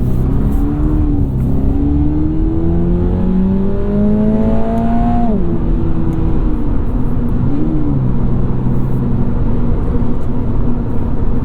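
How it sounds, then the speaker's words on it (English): Cabin of a 2022 Subaru BRZ driving over bumpy road, a steady loud engine drone rising and falling in pitch with gear changes under continuous road rumble. "The ride going over these bumps is actually really not bad at all."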